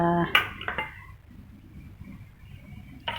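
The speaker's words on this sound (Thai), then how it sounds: "ทำการยำให้ดูนะคะ" Metal utensils clink against a bowl while a spicy Thai yum salad with minced pork, sugar and lime juice is tossed. There are a few sharp clatters at the start and end with quieter scraping between, and a voice is briefly heard at the beginning.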